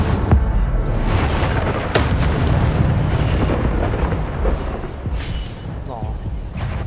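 The Incendio fire spell is cast in the video game Hogwarts Legacy, a loud, continuous roar of booming bursts and crackling blasts, with several sharp hits and voices mixed in.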